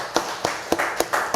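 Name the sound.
church congregation applauding to welcome newcomers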